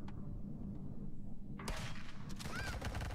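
Enemy shotgunner firing in the retro-style FPS Zortch, a couple of sharp blasts landing after a quiet stretch, with game noise and a rising whine following.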